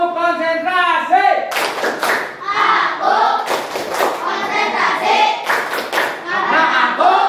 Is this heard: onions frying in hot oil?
no